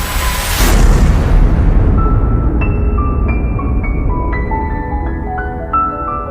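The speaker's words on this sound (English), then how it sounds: "They evaporate away at an increasing rate until they vanish in a gigantic explosion." A heavy boom bursts out and fades into a low rumble, followed by scattered ringing, chime-like tones.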